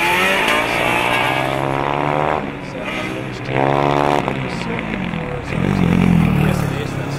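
The Tampere number 78 Formula Student race car laps the track during the FSG 2014 endurance event, its engine repeatedly revving up and down in rising, buzzing sweeps as it passes nearby, with commentators talking over it.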